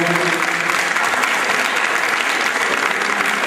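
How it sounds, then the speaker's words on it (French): A crowd at a 2008 sports merit awards ceremony applauds loudly and continuously, a dense wash of clapping filling the whole stretch. "vous pouvez les applaudir"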